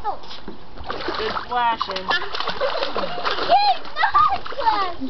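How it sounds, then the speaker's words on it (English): A small boy splashes water in a backyard pool, with repeated splashy bursts mixed with lively children's and adults' voices and some chirpy bird-like squeals. "Yeah, he likes to splash himself."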